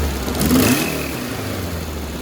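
An 1800cc car engine revs up hard then settles back toward a steady mid-pitched idle, loud and close, with an exhaust leak.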